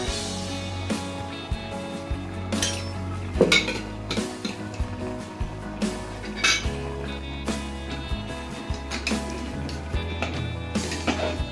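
A pot of mutton masala with red chilli and coriander powder is stirred, the spoon scraping and clinking against the metal rhythmically over a faint sizzle.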